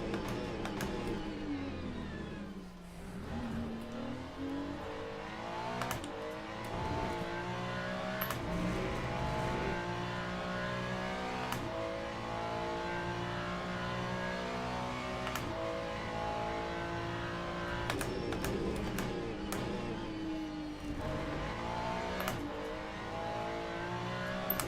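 A Ferrari race car's engine in the Le Mans Ultimate racing game howls continuously, climbing and dropping in pitch through repeated gear shifts and revs with occasional sharp clicks, loud and up close with no speech.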